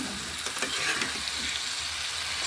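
Potatoes frying with spices in a pan give a steady, close sizzle with faint stirring movement, an even crackling hiss that carries throughout without speech.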